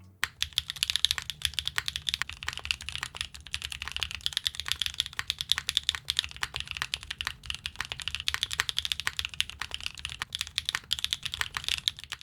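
Steady, fast typing on a mechanical keyboard with Gateron switches, crisp clacky keystrokes in a continuous close-up stream with no talking.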